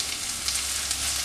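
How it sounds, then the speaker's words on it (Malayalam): Chopped large onion sautéing in a pan, a soft, even hiss of frying with no distinct stirring strokes, close and steady throughout. "ഈ സവോള നന്നായിട്ടൊന്ന് വഴറ്റിയെടുക്കണം."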